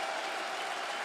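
A crowd applauds at the StarLadder Budapest 2025 Counter-Strike Major grand final between FaZe Clan and Vitality, a brief, dense, steady wash of clapping.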